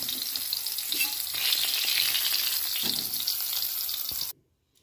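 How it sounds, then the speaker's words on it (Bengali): Broad beans fry in hot oil in a pan, a loud, dense, continuous sizzle close up with faint stirring, cutting off abruptly to silence near the end. "সিমগুলো দিয়ে দিচ্ছি, উল্টে পাল্টে ভেজে নেব।"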